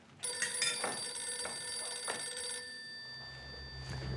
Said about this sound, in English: I can't take that phone ringing anymore.